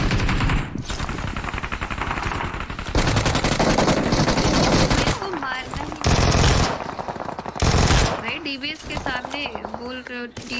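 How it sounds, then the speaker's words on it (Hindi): Heavy, nearly continuous machine-gun fire from a mobile shooting video game, loud overlapping bursts with short gaps, mixed with game effects and voices speaking over parts of it. "इतनी ज्यादा गन चल रही थी"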